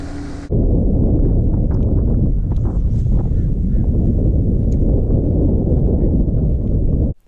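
Strong wind roars steadily across an open lake during spring bass fishing at Santee Cooper as a front moves in, a loud continuous buffeting rumble on the microphone with no talk, cutting off abruptly at the end.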